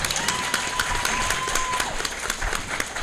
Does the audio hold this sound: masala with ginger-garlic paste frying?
no